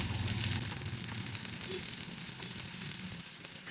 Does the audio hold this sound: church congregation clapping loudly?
no